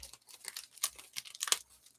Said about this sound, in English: Man versus plastic bag.